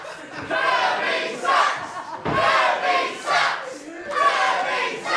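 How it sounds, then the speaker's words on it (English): A wrestling crowd at a live professional wrestling event jeers loudly, a dense roar of many voices swelling and falling in waves for several seconds. "You can hear the sentiment of the crowd."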